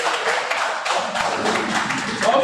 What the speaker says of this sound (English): a lot of applause for him